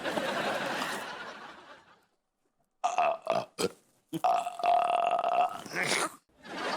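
Loud, drawn-out burps come from a man with gas in his stomach in a comedy scene, several belches separated by pauses and mixed with snickers and chuckling laughter.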